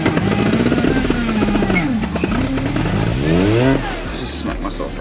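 A supercharged R53 JCW Mini with 1100cc injectors and a 17% reduced supercharger pulley revs hard on a dyno, its loud engine pitch sweeping up and down repeatedly before dropping away.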